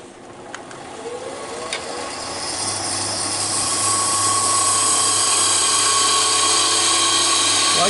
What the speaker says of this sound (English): this is my Henry Taylor bowl gouge